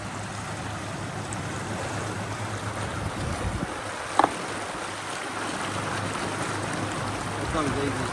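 A boat pushed by twin Parsun Joy 1.2 electric outboard motors cruises on open water, a soft steady hum under wind and water wash, with voices talking over it and one brief knock.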